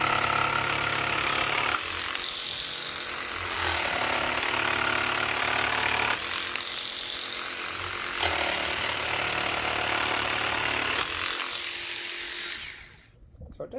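A Bosch 12 volt cordless jigsaw with orbit action on cuts 3/4 inch wood, a loud buzzing, chattering drone in several long bursts with short pauses between, ending as the cut finishes.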